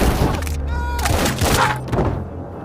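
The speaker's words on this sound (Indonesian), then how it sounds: "sedang para pria bersenjata mulai menembaki mereka" Rapid bursts of gunfire crackle in a busy, dense mix, with sharp repeated shots over a low rumbling background and some faint voices.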